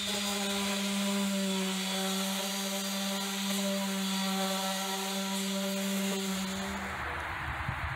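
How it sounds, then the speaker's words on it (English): A power sander works over wooden boards on a house exterior, prepping them for paint. It gives a continuous, droning whine with steady tonal overtones near the mic, then winds down toward the end. "The first thing we have to do is sand and prep the wood for painting."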